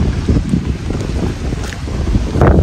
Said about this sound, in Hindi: ये हवा का शोर, अब मुझे नहीं पता मोबाइल में रिकॉर्ड हो रहा है कि नहीं, लेकिन बहुत प्यारी हवा चल रही है।